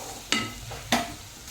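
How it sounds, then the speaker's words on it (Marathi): Browned onions frying with turmeric, red chili powder and salt, two sharp spatula scrapes against the pan over a low continuous sizzle, no talking. "कांदे आपण 2 ते 3 मिनिट चांगलं परतून घेऊ।"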